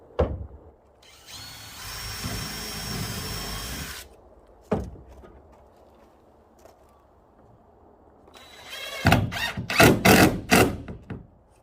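A power drill whirs steadily for a couple of seconds, then a sharp knock, and later a series of quick rough bursts of drilling pilot holes into wood.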